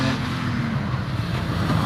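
A Jaguar E-Type races up the Harewood hillclimb at a British Championship event, its engine a loud, steady roar whose pitch climbs slightly as it accelerates past.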